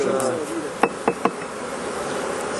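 Honeybees hum in a steady, fairly close buzz around an open beehive at a nursery, with three sharp clicking knocks from hive equipment partway through.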